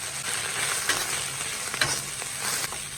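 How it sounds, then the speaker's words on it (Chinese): Dried mustard greens (meigancai) stir-fried in a wok in hot smoking oil with aromatics: a loud continuous sizzle broken by scraping spatula strokes near the pan, no voices. "随便给它翻炒2下"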